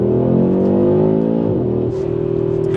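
A 2025 Audi RS3 engine revs hard and climbs in pitch, then drops sharply as the throttle lifts, with a brief hiss from a blow-off valve, loud and close.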